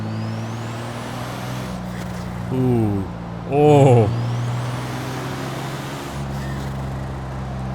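A turbocharged car engine in the racing game Forza Horizon 3 hums steadily, and its turbo spools up twice as a rising high whine over the engine drone. Brief exclamations are heard in between.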